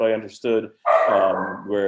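A dog barks and growls a few times close by, its sharp calls overlapping and cutting into a man's ongoing speech.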